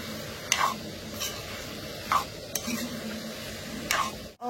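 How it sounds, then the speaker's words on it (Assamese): Pork with ginger and garlic is stir-fried in a wok, a low sizzle beneath a handful of evenly spaced scraping strokes of the spatula against the pan, ending in a sharp knock. "এতিয়া কেৰাহীত মাংস পৰি গৈছে।"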